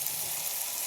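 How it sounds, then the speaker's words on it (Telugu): Cauliflower pieces fry in a pan for a tomato curry, giving a steady, close sizzle with constant hiss and no voices over it. "ఇందులో కట్ చేసి పెట్టుకున్న కాలీఫ్లవర్ ముక్కలు కూడా ఇందులో వేసుకున్నాం"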